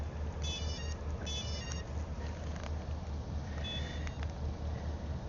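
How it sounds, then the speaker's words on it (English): Faint sequences of short electronic beeps, a few quick tonal patterns, sit over a low steady hum and background noise: startup beeps from an ArduPilot flight controller on a 2.5-inch drone. "it's doing its startup beeps"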